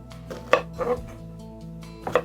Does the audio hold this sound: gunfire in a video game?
no